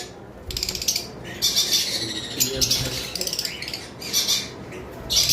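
Caged lovebirds, budgerigars and baby conures squawk and chirp in rapid, overlapping bursts, loud and close, with a constant busy chatter of calls throughout.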